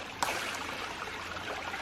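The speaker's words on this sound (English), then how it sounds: "Then I'm gonna try and open this valve to let the pressure out." Water pressure released through a valve on a creek-fed ram pump system: a faint, steady gushing trickle of water after a brief knock at the start, fairly quiet and continuous.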